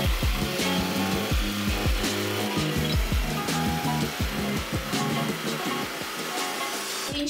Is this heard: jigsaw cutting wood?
yes